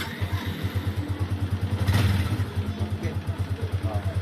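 A repaired 2017 model motorcycle engine runs at a steady idle nearby, with an even, thumping pulse and a brief swell midway, while a voice speaks a single word.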